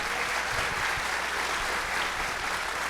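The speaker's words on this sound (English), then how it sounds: "So big round of applause for our panel" A panel audience at a forum on crime and drugs gives a steady, dense round of applause, loud and continuous throughout with no break.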